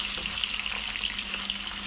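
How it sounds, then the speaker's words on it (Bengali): Rohu fish frying in a pan gives a steady, close sizzle that runs unbroken and fairly loud throughout, with no voices. "মাছটা সুন্দর করে আমি এখন ভেজে নিচ্ছি"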